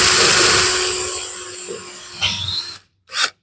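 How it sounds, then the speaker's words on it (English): A power drill bores a pilot hole while installing an exhaust paint filter in a garage body shop, a loud steady grinding whir that fades, then a short bite and a final brief burst of the motor. "I'm going to pre-drill it."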